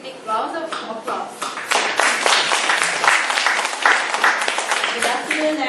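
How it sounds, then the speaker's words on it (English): An audience claps in welcome for a speaker at a talk. Dense, steady applause starts thin and swells to a full, continuous sound that lasts several seconds. "let's welcome our speaker with big rounds of applause"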